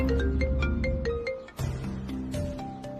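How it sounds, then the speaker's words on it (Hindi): A phone ringtone plays a bright melodic tune while someone drives a car, a steady rising-and-falling pattern of tones that briefly breaks off and then resumes, close and loud. "अब गाड़ी चलाते हुए सारे फोन आने हैं क्या?"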